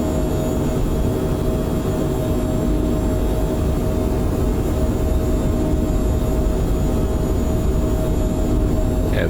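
Twin jet engines of a Phenom 100 spooled to takeoff power in a flight simulator, a loud steady roar with a high whine running unbroken throughout, no speech over it.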